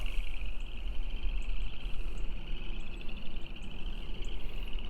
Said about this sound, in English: I believe that's frogs all down in there